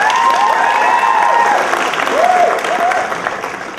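An audience claps steadily and continuously, with a sustained wash of hands fading slightly toward the end and a tonal voice-like sound riding over it.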